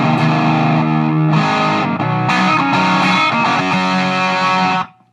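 Electric guitar played through a Boss DS-1 distortion pedal with the distortion knob turned all the way down, still sounding gritty: loud sustained chords that change a few times, then cut off abruptly at the end.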